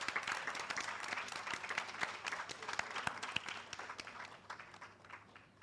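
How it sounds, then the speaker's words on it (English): An audience at a senior citizens' spelling bee competition gives the team a sustained round of applause, dense clapping filling the hall before slowly tapering off. "Can we have a round of applause for the team?"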